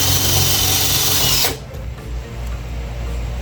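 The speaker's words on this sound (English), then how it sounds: "you use self-tapping screws for metal. That's what they look like, and then you're going to go ahead and self-tap it in there" Power driver spinning a self-tapping screw into metal while installing a GE window air conditioner, a loud steady whirring motor that stops abruptly partway through, leaving quieter background noise.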